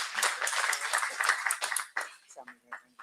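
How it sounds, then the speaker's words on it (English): Audience clapping at a village board meeting honoring 20 years of service, a loud burst of applause that thins out into scattered claps and then talk. "Let's give them another round of applause."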